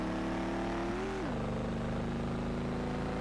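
A car engine in the racing game Street Legal Racing drones loudly and continuously, its pitch dipping sharply once as the revs drop, then holding a steady lower hum with no talk.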